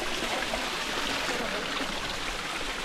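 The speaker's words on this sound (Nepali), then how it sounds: "यहाँनिर वाटरफल्स रहेछ एउटा सानो" A small jungle waterfall feeding a stream gives a steady, dense rush of falling and flowing water, constant and fairly near, with no voices.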